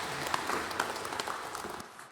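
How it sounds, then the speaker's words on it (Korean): A Korean church congregation claps during a Sunday service, a brief even round of many hands that holds steady and then fades out at the end. "박수를 하나님께 드리겠습니다"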